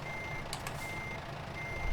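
Reversing beeps from a Volvo VNL 780 truck in American Truck Simulator, set in Colorado: a steady, evenly spaced tonal beep repeating over a low engine rumble that swells near the end.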